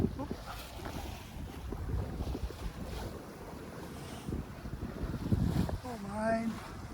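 Wind buffets the microphone aboard a ketch sailing in about 9 or 10 knots of breeze, with rushing water and gusty rumbles along the hull. A voice speaks briefly near the end.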